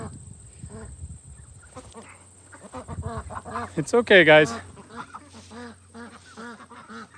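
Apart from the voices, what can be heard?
ducks quacking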